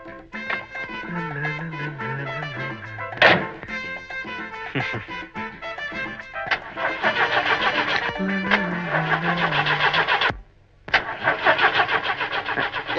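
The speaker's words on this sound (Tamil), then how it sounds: "ஏன்பா டிரைவர், வண்டி எப்பப்பா ஸ்டார்ட் ஆகும்?" A taxi engine cranks over and over without catching, with rhythmic starter churning in repeated bursts. A music score plays throughout, and there is a brief silent gap near the end.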